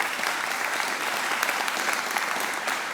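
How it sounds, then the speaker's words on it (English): Audience applause at a hall of fame induction ceremony in a university venue, dense and steady clapping throughout, fairly loud and close, with no talk over it. "Let's just give another round of applause"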